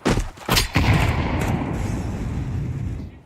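Counter-Strike 2 Desert Eagle pistol fire: a few sharp, loud shots in quick succession at the start, followed by a dense rumbling wash of in-game gunfire and echo that slowly fades.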